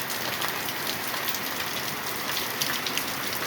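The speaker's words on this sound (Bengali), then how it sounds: "অনেকক্ষণ থেকে বৃষ্টি হচ্ছে আমাদের এখানে।" Steady rain falls continuously, a dense even hiss of drops on surfaces with no breaks.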